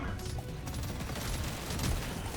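Burst-fire gun from Deep Rock Galactic: Survivor rattles in quick, dense volleys over a busy game soundscape, moderately loud and continuous.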